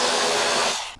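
Power tool driving out the inner fairing screws on a Harley-Davidson touring motorcycle, a steady close whir running for about a second before cutting off abruptly.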